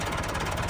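Massey Ferguson MF385 tractor, special edition, with its diesel engine idling steadily nearby, a continuous dense rumble with a faint knocking pulse and no talk over it.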